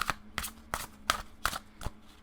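Tarot cards are shuffled by hand in a steady series of six or seven soft riffling bursts, close and fairly quiet, with no talking.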